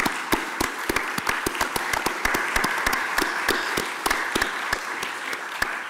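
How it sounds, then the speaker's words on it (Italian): A university lecture hall audience applauds in honour of senator Liliana Segre, with distinct sharp claps from a modest crowd in a lively, uneven patter lasting about six seconds. "sarebbe bello che da quest'aula vi fosse un applauso in onore della senatrice Liliana Segre"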